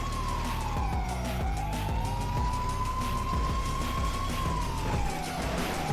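Police car sirens wail continuously in GTA V, a rising and falling tone over a heavy rumbling engine and road noise, loud and close throughout.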